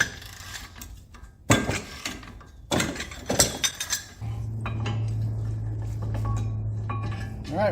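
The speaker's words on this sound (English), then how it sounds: "now we got to take the brake caliper mounting bracket off, and that's 2 number 17 millimeter bolts" Ratchet wrench working on the two 17 mm brake caliper mounting bracket bolts of a 2016 Honda Civic front hub, sharp metallic clicks and clanks in bursts, then a steady ratcheting buzz.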